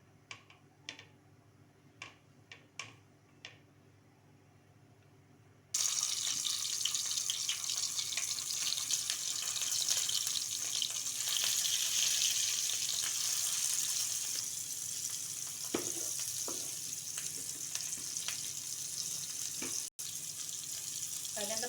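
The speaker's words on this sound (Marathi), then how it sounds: "आता हे तेल चांगलं तापलं याच्यामध्ये एक एक कारलं सोडायचं आणि फ्राय करून घ्यायचं" Bitter gourds drop one by one into hot oil in a pan, bursting into a sudden loud, sustained sizzle after a few light clicks, with occasional sharper pops and crackles.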